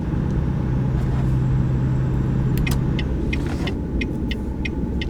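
A truck engine in American Truck Simulator roars steadily as it speeds up, a loud continuous rumble with a faint higher whine, alone without talk.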